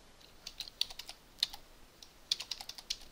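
Quick, crisp keystrokes on a computer keyboard, irregular bursts of clicks that are close and fairly quiet with no voice over them.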